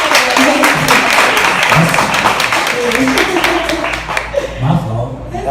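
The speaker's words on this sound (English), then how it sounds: "Gotta give a round of applause for that." Scattered clapping from a small group during an interview with a singer, moderately loud and uneven, mixed with chuckles and talking voices throughout.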